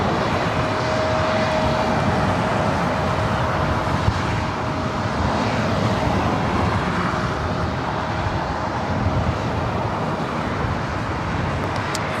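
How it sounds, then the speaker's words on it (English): A Delta Connection Embraer E175 regional jet rumbles steadily at LAX, a broad, sustained engine roar at moderate loudness with a faint whine running through it and no voices. "Delta Connection Flight 3911. It's E175."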